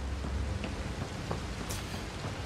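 Steady rain in Mass Effect Andromeda on Meridian, a continuous hissing patter that stays even and moderately loud throughout, with no voices.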